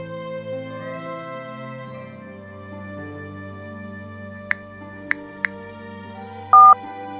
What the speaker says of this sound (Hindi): फोन मिलाओ।